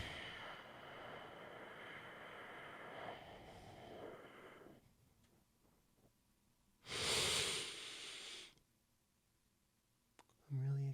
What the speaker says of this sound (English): So you exhale.